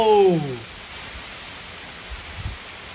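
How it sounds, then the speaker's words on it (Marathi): Heavy monsoon rain pours steadily in a village countryside, a dense, even hiss filling the scene near and far, with a brief voice at the very start and a few soft low thumps later. "तबर तबर पाऊस आलेला आहे"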